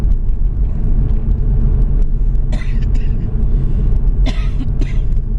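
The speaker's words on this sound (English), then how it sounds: "coughing" Several short, sharp coughs come in bursts over a constant low engine rumble inside a moving car.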